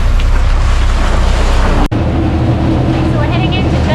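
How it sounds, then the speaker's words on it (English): A water taxi motors along in Venice, with a loud, steady roar of engine, wind and water rushing past throughout and one brief dropout partway through. "We are on one of the water taxis"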